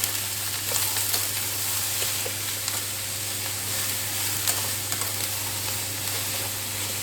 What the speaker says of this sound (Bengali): আচ্ছা, এটা একটু ভাজা ভাজা হোক।